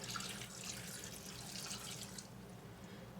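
Water pours into a large saucepan in a home kitchen, a soft steady splashing stream for a few seconds that tapers off, with no talking.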